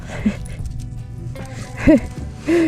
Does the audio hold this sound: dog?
yes